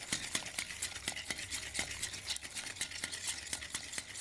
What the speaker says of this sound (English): Bit of gentle whisking.